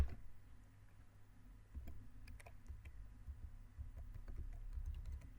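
Scattered, quiet clicks from typing on a computer keyboard, irregular taps spread over a low steady hum, with no talking.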